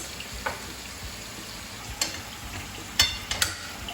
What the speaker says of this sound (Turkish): Güzelce kızarsınlar, kavrulsunlar.